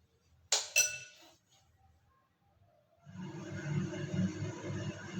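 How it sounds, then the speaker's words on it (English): A metal tawa pan set down on a gas stove, a sharp clink and brief rattle, then a steady low hiss of the burner flame taking over after a short pause. "Put on a tawa on gas oven and little bit of white oil on this."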